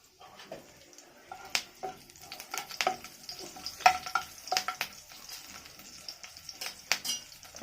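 Whole spices and green chilli tempering in hot oil for a mixed five-lentil dal, crackling and sizzling close by in uneven spurts with stirring clatter over a quiet background.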